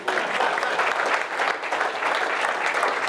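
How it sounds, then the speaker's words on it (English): A leadership summit audience breaks into a short burst of steady applause, dense and even for about three seconds with no voices on top. "Give a little round of applause."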